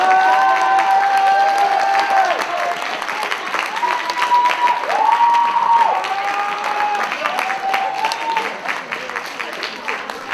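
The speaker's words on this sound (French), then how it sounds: "On les applaudit fort, fort, fort." An audience at a 2017 cosplay contest in Switzerland applauds and cheers continuously, a dense wash of clapping and shouts, while a host's voice calls out over the crowd.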